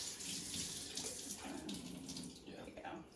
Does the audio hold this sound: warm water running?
yes